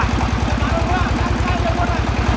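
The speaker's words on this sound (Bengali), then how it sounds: "ভাই এটু ইঞ্জিনের কাছে ধরেন তো দেখি সাউন্ড" A 12-horsepower Changchai diesel generator engine chugs close up in a fast, even, pulsing rhythm, loud and steady throughout, with no talk over it.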